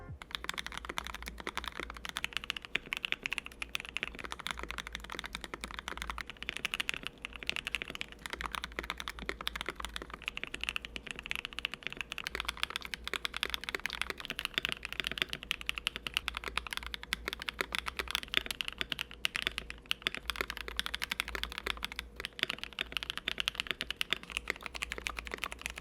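Continuous mechanical keyboard typing on a KBD67 Lite and an Ikki68 Aurora, fitted with three different switches. The keystrokes are dense, steady and close, clacking alone with no voices.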